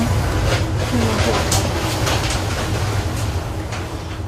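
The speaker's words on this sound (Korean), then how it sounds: "이제 기차가 목적지인 서울역으로 달리기 시작했는데요" Airport railroad train running toward Seoul Station, a steady low rumble of wheels and carriage noise filling the cabin at even, close loudness, with faint talk underneath.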